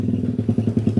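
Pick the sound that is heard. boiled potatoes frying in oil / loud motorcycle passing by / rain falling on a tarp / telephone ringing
loud motorcycle passing by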